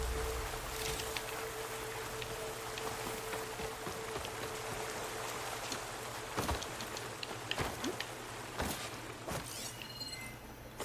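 Steady rain falls in the video game Horizon Forbidden West, a dense even wash of drops with occasional sharper taps and clicks, no voices over it.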